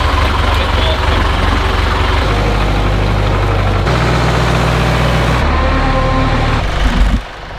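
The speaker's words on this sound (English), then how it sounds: "We are using the case loader tractor as a backup scraper tractor." A Case loader tractor engine runs steadily with a loud, deep idling drone whose pitch shifts slightly a few times, close by and continuous throughout.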